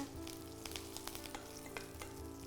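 Cumin seeds crackling and sizzling in hot oil for tempering, a steady frying hiss with scattered sharp pops, fairly quiet and close.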